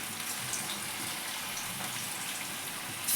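Vegetable manchurian balls sizzle in hot oil over a low flame, a steady, close hiss that runs unbroken through the clip.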